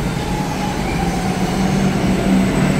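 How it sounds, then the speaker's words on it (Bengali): A train arriving at a station, a loud steady close rumble with faint tonal whine throughout, no voices heard. "বুঝি ট্রেন আসছে, ট্রেনে উঠতে হবে।"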